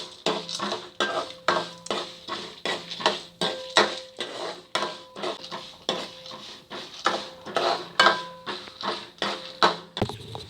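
Urad dal is stirred as it roasts in a pan over a low flame for sambar powder. A metal spoon scrapes and clinks against the pan in a steady, close rhythm of repeated strokes, with no talk.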